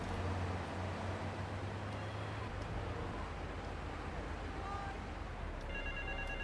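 A telephone rings in the video game GTA III, sounding as a few short electronic trills near the end over a steady bed of traffic and engine rumble.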